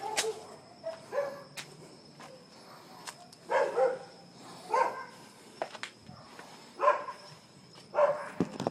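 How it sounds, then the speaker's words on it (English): A dog barks behind a closed front door at a house in the evening. The barks sound muffled and fairly distant and come in repeated short bursts every second or so, with faint crickets chirping in the background. "You can hear him barking through the front door now."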